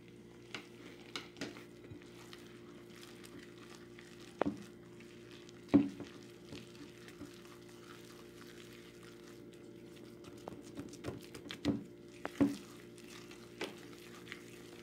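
Homemade buttermilk biscuit batter being stirred in a bowl, faint soft scraping with sparse irregular knocks of the utensil against the side, close and quiet, with no voices.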